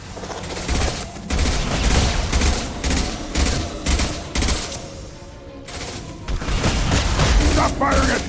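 Heavy gunfire in the sci-fi shooter Mass Effect 2 during the Collectors fight on Horizon: dense, rapid bursts of shots and booming impacts, loud and nearly continuous, with a brief lull near the middle.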